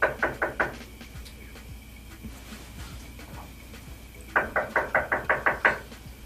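Knuckles rap on a wooden door in two bursts, a quick run of four knocks, then after a pause a longer run of about eight, clear and close over a low background hum, with no voices.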